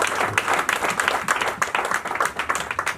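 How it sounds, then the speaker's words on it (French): A church congregation claps in a steady burst of dense, moderately loud applause lasting a few seconds. "Acclamons."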